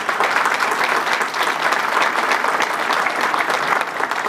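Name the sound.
crowd applause at an airport open house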